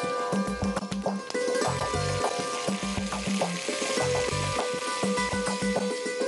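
Water poured into a hot pan sizzles and bubbles steadily up close, with clattering stirring and rhythmic background music running throughout.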